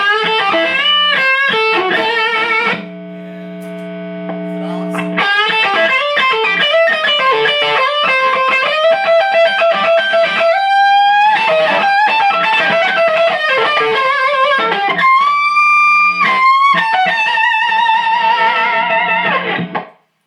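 Electric guitar with single-coil pickups through a Genz Benz El Diablo 100C amp on a clean tone, playing a melodic lead line with sustained notes and chords, fairly loud and continuous with a brief quieter held chord early on.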